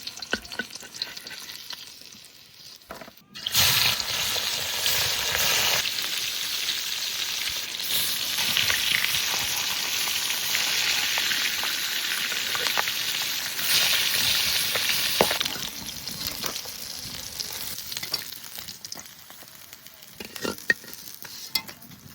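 River catla fish frying in oil, a loud bubbling sizzle that starts abruptly after a quiet moment and runs steadily, with stirring and clinks, easing off near the end.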